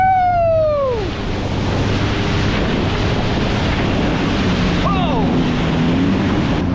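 Wind buffets the microphone over choppy ocean water around a Sea-Doo in a loud, constant rushing roar, with brief whooping voices near the start and again midway.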